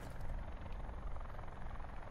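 A helicopter in the online shooter Call of Duty: Black Ops 4 gives off a steady, deep rotor thrum that stays fairly distant and constant throughout, with no one talking over it.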